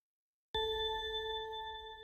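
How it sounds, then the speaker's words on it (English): A synthesized bell ding made in LMMS strikes once after a brief silence and rings on as a clear, sustained tone with soft reverb, slowly fading. "I just want to hear a slight ding when I'm hearing that bell"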